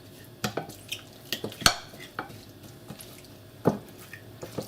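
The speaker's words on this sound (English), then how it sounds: "I'm going to give this a good stir." Seasoned meat is stirred with a series of intermittent wet squelches and clicks, close and fairly quiet, with irregular pauses between strokes and no talking.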